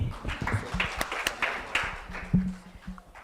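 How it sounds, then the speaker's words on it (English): An audience at an autism awareness talk claps hands in scattered, uneven beats over a busy room murmur, with a low hum running underneath. "Can we clap hands?"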